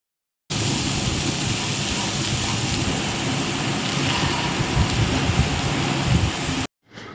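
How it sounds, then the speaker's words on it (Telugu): Heavy rain pours down outdoors as a dense, steady hiss of broadband noise, loud and continuous for about six seconds before cutting off abruptly. "మీకు వర్షం సౌండ్ వినబడుతుందా? భయంకరమైన వర్షం పడతా ఉంది బయట."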